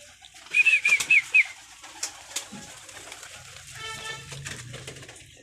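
Pet pigeons kept on a rooftop give a quick burst of loud, close calls, followed by softer rustling and faint murmuring coos in the background.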